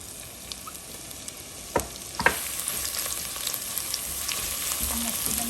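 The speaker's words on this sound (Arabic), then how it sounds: "احمص كده مع الزبده" Grated onion frying in butter in a pot for okra stew, a steady crackling sizzle with a couple of sharp clanks of a spoon stirring, close and continuous.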